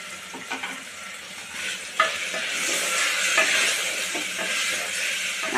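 Onions with a handful of coriander and mint sizzle in a pan while a spoon stirs them, giving a steady frying hiss broken by repeated close scraping stirs.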